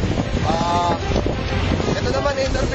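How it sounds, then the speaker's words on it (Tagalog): Strong typhoon wind buffets the microphone in a steady roar outdoors in the street, with people talking over it. "Mahangin talaga."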